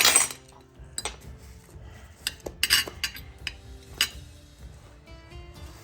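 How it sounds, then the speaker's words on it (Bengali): A frying pan washed at a kitchen sink, with irregular metallic clinks, knocks and scrapes of cookware, close and fairly quiet with pauses between the hits. "পাইপেনটা ধুয়ে নিয়ে আমি চিংড়ি মাছটা ভাজবো"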